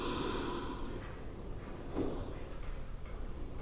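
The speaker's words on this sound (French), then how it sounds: "On vient prendre 2 grandes respirations ici." Deep breathing during a yoga session: slow, audible inhales and exhales close to the microphone, soft and airy with a fuller breath midway, no talking.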